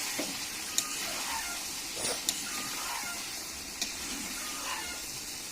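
Goat meat curry with potatoes just added, hissing and sizzling steadily in a pan, with a few sharp clinks and stirring knocks over the constant close frying noise.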